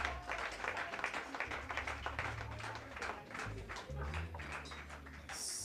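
A church congregation claps along during a praise and testimony night, with steady dense applause and rhythmic clapping over a low musical backing.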